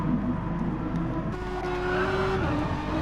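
A pack of Renault Megane race cars screams past at the Red Bull Ring, loud engines rising and falling as they pass close by, with a brief squeal of tyres.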